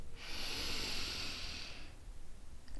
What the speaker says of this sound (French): je vais te demander de faire une grande, profonde et bonne inspiration